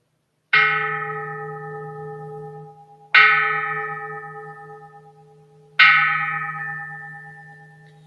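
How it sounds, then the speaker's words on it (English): A meditation bell sounds three times during a mindfulness session, each clear resonant strike ringing out close and alone and fading slowly before the next, about two and a half seconds apart. "Listening to the bell, I feel the afflictions in me begin to dissolve, my mind calm, my body relaxed."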